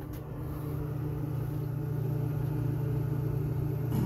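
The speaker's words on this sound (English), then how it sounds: "Sounds like the compressor is building pressure. I can hear the typical compressor sounds." A pop machine's refrigeration compressor runs with a steady low hum and rumble, constant and close throughout.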